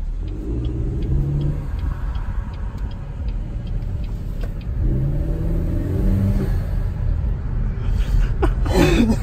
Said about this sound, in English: You can really fucking hear the turbo now.